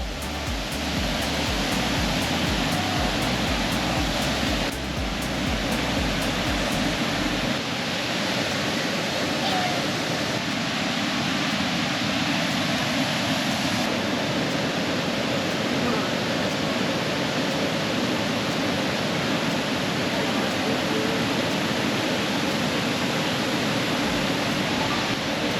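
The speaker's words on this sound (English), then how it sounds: "find another spot to look at this majestic waterfall" The widest waterfall in West Virginia roars in a steady, loud, broadband rush that never lets up, heard from a boardwalk viewpoint.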